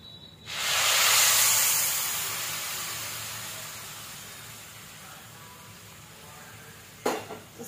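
Sugar syrup poured into hot semolina halwa in a pan gives a loud, steamy hiss that surges at once, then slowly fades to a soft sizzle, with a brief clatter near the end.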